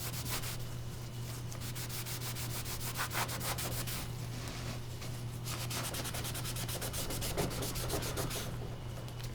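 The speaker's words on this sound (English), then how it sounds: "Wipe off any of the excess here." Leather dye being wiped off wood with steady rubbing strokes, a continuous soft scrubbing that runs close and even throughout over a faint low hum.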